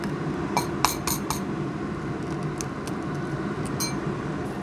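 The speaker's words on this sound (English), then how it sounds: "We're gonna crack some eggs into a bowl." Eggs are tapped against the rim of a bowl, giving a few sharp cracking clicks near the start and a couple more later, faint over a low kitchen hum.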